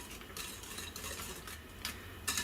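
Self-raising flour being stirred into chocolate mud cake batter in a bowl, a soft close scraping and swishing of the utensil with a few brighter strokes, steady and continuous, without voices.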